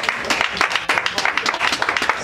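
A crowd at a foundation gathering in Lingwala claps and cheers continuously, dense rapid hand claps filling the space with a lively, loud, sustained applause.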